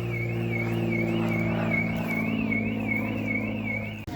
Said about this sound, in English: Oh, and the car alarm's gone off.